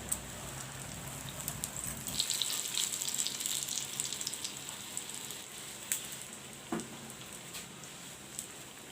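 Cauliflower pakoras dipped in batter fry in hot oil, a steady close crackling hiss with scattered pops and a brief splash.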